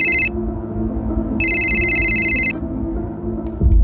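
A telephone rings during a call in a crime drama, two bursts of bright electronic trilling separated by a pause, loud over a low background hum, with a thump near the end.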